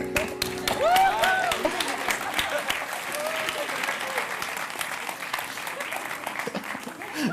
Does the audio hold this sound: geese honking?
no